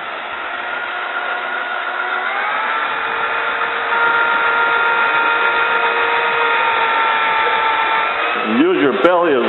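A steady, droning drill motor hums under a drill-powered sander's grinding whirr while shaping a hat, rising slightly in pitch partway through, with a brief bump near the end.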